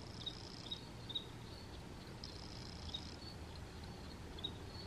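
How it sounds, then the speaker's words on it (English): Crickets infesting an indoor space chirp in short high-pitched trills, some steady and some intermittent, quiet against a soft background hiss. "I think it's an infestation of crickets."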